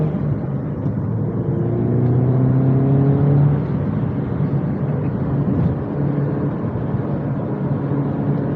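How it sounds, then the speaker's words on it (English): A stock R56 Mini Cooper S accelerates into turbo boost from inside the cabin, engine tone rising steadily through the revs with a whirring boost note, loud and continuous, then easing off. "I like the way this car climbs into boost."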